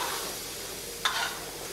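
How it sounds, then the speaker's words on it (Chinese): Soy sauce is poured onto meat searing in a huge hot wok for a big-pot stew, giving a steady loud hiss with a sharp burst of sizzle partway through. "哦，酱油下锅，"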